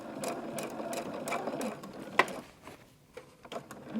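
A sewing machine stitches quilt blocks for a Christmas quilt with a fast, steady mechanical whir and chatter, broken by a sharp click partway through, then short pauses and restarts.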